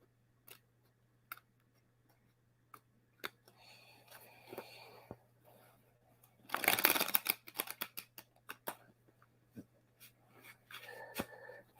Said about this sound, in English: Shuffle my deck one more time for Chase.